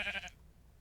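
A single sheep bleats in the Minecraft video game, one short wavering cry that fades quickly into quiet background.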